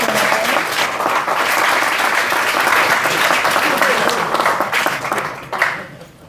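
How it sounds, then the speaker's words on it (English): An audience at an industrial forum applauds recognized members, a strong, close wash of many hands clapping that holds steady, then tapers off with a few last claps and a brief voice. "if everyone could just give a round of applause for them"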